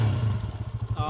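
A motorcycle fitted with a new silent timing gear set idles and revs briefly, a steady smooth low engine throb close up that rises slightly at the end, with a faint voice over it.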